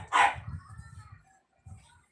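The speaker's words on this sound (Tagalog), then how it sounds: "Naingay po kasi ang aso." A dog gives a single sharp bark and then a low rumbling growl, followed after a pause by a short grumble, close and fairly quiet.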